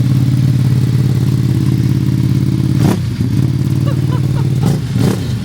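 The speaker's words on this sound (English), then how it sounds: "He picked up this black Panigale V2, the one that we unboxed on the channel actually, and he just put the Aero exhaust" A black Ducati Panigale V2 fitted with an Aero exhaust idles loudly up close with a deep, rumbling burble, then gives two or three quick throttle blips that rise and fall sharply.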